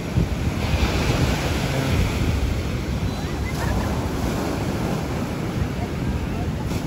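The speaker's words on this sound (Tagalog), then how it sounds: "babaybayin po naman natin muli ang tabing dagat papunta doon sa tinuturuyan nila Sis Lisa po" Ocean waves wash steadily onto a beach where surfing lessons are underway, forming a loud, constant surf roar mixed with strong wind buffeting the microphone and no clear breaks.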